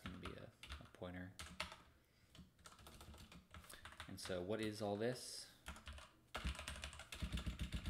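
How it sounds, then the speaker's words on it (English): Keyboard typing on a computer during a coding session, rapid clicking keystrokes running under and between a man's speech, fairly close and steady. "I am so bad at typing"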